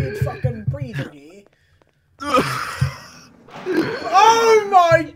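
Eerie breathing and moaning in a horror video game, with drawn-out wailing and wheezing tones after a brief silence. A person talks and reacts over it.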